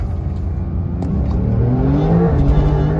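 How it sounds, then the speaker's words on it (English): Car accelerating hard from a stop with tires spinning, its engine revving loudly with rising pitch that climbs steadily over about three seconds, close and continuous. "Holy, spun the tires."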